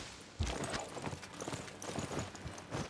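Hooves clip-clop in Civilization VI: Gathering Storm as a mounted unit moves, a steady run of soft, fairly faint hoof beats with no voices over them.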